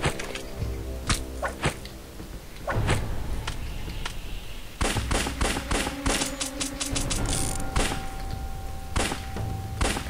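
Rapid bursts of sharp gunshots, some in quick volleys and others single, mixed with thuds and impacts in a busy soundscape from the video game Lava Mortus.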